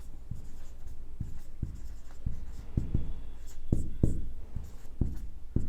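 A pen writing on paper while a maths problem is worked out, heard as close, soft scratching strokes with irregular taps and scrapes over a faint background hum.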